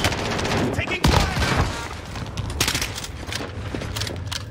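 Dense gunfire in Call of Duty Warzone, with overlapping bursts and rapid shots forming a loud, continuous barrage. A heavier crack lands near the start, and a voice speaks briefly under the shooting.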